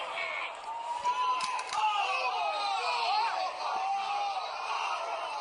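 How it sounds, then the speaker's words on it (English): A wrestling crowd in an arena roars and screams, a dense swelling mass of voices with sharp shrill yells rising through it, sustained throughout with a few thuds and someone talking over it. "And you hear the crowd."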